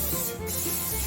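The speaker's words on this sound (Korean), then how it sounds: "기름 스프레이를 해주고요" Cooking oil spray misted into a baking pan while making castella cake gives one short, close, steady hiss lasting about a second.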